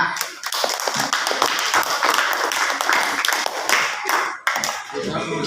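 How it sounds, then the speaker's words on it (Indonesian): Classroom applause for a student group after their presentation, a burst of close, uneven hand claps from a modest group lasting about five seconds, with a few voices underneath. "beri tepuk tangan untuk kelompok 5"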